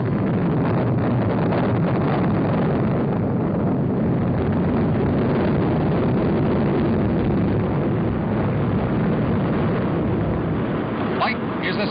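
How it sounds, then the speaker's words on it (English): A 1961 Atlas rocket lifts off carrying the chimp Enos on Mercury-Atlas 5, a loud, sustained broadband roar that fills the whole stretch without letup. "But now the countdown approaches zero and blast off."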